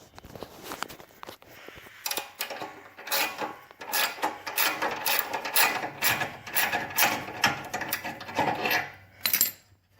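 A socket ratchet works a bolt on the mower deck of a Cub Cadet LT1045 lawn tractor, giving close, rapid clicking bursts of the pawl with short pauses and metallic rubbing, with no speech.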